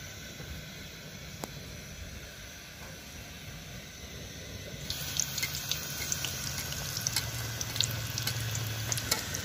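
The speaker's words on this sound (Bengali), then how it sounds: "এইভাবে আমি সবগুলো ভেজে নেব।" Dalia pitha, small semolina and flour cakes, deep-fry fully submerged in oil, a soft, steady bubbling sizzle that turns noticeably louder and more crackly halfway through, with no talk.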